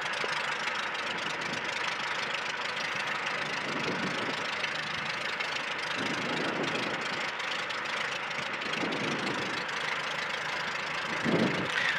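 The engine of an EAA Biplane Model P idles steadily while the plane taxis, a continuous droning rumble with slight swells in pitch and loudness, heard over wind and microphone buffeting.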